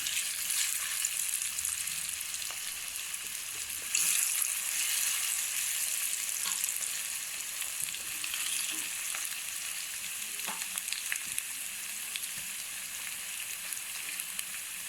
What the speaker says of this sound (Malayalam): ഇനി ഇതൊന്ന് നന്നായി കിടന്നൊന്ന് പൊരിയട്ടെ കേട്ടോ